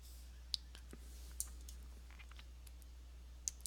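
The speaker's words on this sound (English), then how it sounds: "I think I'm going to type this." Sparse keyboard clicks while typing an equation on a computer, a few isolated sharp taps spread over a few seconds, faint and close, over a low steady hum.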